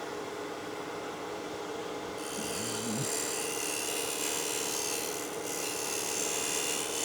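A lathe spins dense hardwood end grain while a scraping tool takes very light cuts, giving a steady whirring drone with a faint rasping texture that brightens partway through.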